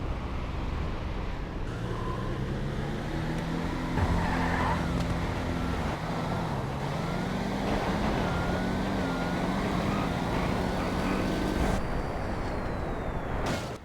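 A Mustang and a G35 drag race in a GTA street-racing game, loud continuous engine roar with rising and falling revs and gear changes, layered game audio filling the whole stretch.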